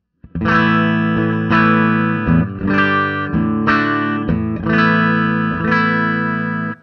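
Distorted electric guitar played through a long cable with the Wampler Decibel+ buffer off strums a series of chords, each ringing out with chorus-like shimmer, loud and close with brief gaps between changes.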